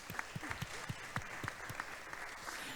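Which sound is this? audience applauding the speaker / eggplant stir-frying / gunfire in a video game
audience applauding the speaker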